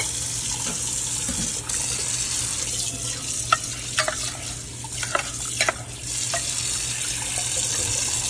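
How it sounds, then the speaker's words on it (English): Room-temperature tap water runs steadily over tapioca pearls in a sink as they are rinsed, a constant hissing stream with a few clinks and splashes, close and moderately loud. "We're gonna let it run through room temperature cold water, and then we're gonna rinse it"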